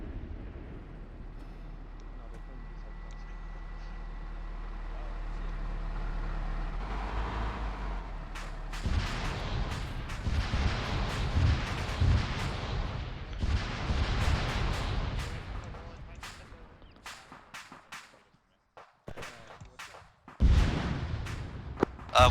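A dense rumbling barrage of heavy blasts and bangs in a military video game mission, building and booming for several seconds, then sharp scattered bursts and secondary rocket explosions trailing off before another loud blast.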